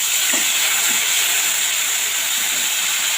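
Loud, steady hiss of water hitting hand-ground spice paste in a hot pan, cooking for a koi fish dish, continuous and close with faint bubbling underneath.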